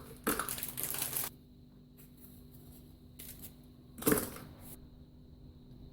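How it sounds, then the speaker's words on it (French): Speculoos biscuits snapped into pieces over a food processor bowl fitted with a four-blade attachment, giving two short bursts of dry crunching and cracking, close and fairly loud, with quiet pauses between. "je vais mettre des spéculoos que je vais couper en morceaux comme ceci"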